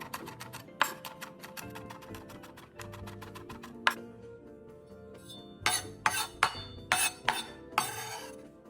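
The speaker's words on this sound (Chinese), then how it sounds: "蒜瓣30克，去皮后剁碎。" Peeled garlic cloves being minced with a knife on a board, a fast run of sharp close chops followed by a few louder, spaced knocks.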